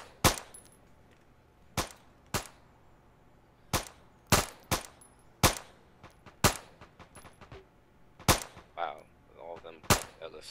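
Gunfire in the military shooter ArmA 3, a series of sharp, loud individual shots and short bursts at irregular intervals, some close and cracking, with brief echoing tails between them and faint background noise.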